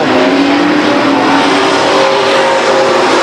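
Race trucks at Stockton 99 Speedway roar past in a continuous loud engine drone, the pitch shifting gently as they run down the backstretch, with no talking over it.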